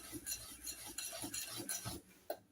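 A utensil scrapes and taps against a bowl while four eggs are stirred into chocolate cake batter, a quick steady rhythm of soft clinks heard close and fairly quiet, with no voices.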